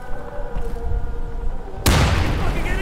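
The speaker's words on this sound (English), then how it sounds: "I'm throwing a frag grenade!" Frag grenade detonating in the shooter game Insurgency, a sudden loud close blast with a rumbling tail that breaks in after quieter gunfire and background game noise.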